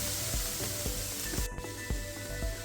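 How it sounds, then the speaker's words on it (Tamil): Vegetables and egg being mixed and chopped on a hot griddle for Jaffna-style mutton kottu roti: steady sizzle under a brisk, irregular run of sharp metal blade strikes, close and loud, with no talking. "வெஜிடபிள்ஸையும் எக்கையும் இப்படி நல்லா மிக்ஸ் பண்ணி கொத்தி எடுக்கணும்."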